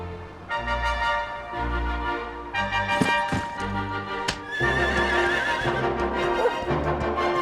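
A horse neighs and whinnies in the video game Dragon Quest 11, with hoof clip-clops and thuds over a loud, steady bed of game music and effects; the whinny stands out clearly near the end.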